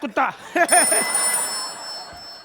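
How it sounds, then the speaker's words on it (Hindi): A phone's electronic ringtone starts partway through and keeps ringing steadily, with people talking loudly over it at first. "ये फोन किसका बज रहा? बंद करो।"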